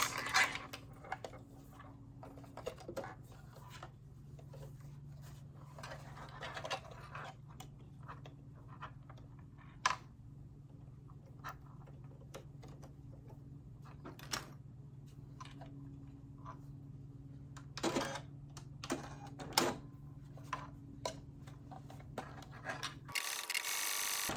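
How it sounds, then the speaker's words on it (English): A serger machine bastes the two edges of a fabric waistband holding power net, running with a quiet, steady low hum and scattered light clicks and ticks throughout, close by. "I'm just going to baste along the two edges so that that power net that I put in stays"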